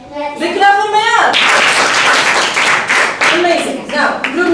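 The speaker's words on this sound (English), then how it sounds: "Big clap for Maya" A school class claps for a student during a lesson, a burst of clapping from many children that follows a raised voice and runs under continued talking.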